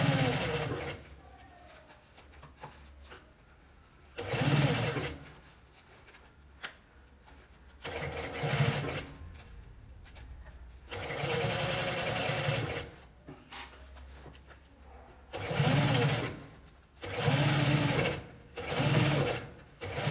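A sewing machine stitches 2 cm bias binding in several bursts of steady, whirring motor hum, each lasting a few seconds. Someone speaks quietly in the pauses between runs.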